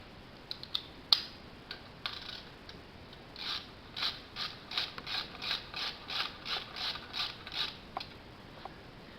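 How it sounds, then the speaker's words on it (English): A ratchet tightening a 10mm Allen screw with a washer gives a run of about a dozen evenly spaced, crisp clicks after a few scattered taps. The clicks are close and moderately loud, with no voices. "Then the 10mm Allen screw and washer in the back and the bottom here."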